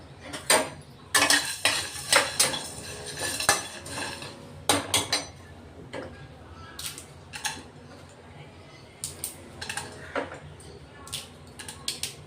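Whole spices (star anise, black pepper, cardamom and cinnamon pieces) are dry-roasted in a pan, with a utensil clinking and scraping against the metal in irregular, close bursts of stirring.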